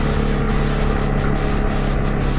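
2022 CFMOTO CForce 625 ATV engine while driving, a steady close droning rumble with mechanical clatter and wind noise, continuous with no talk.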